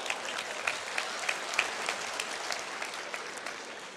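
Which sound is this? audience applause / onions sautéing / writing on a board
audience applause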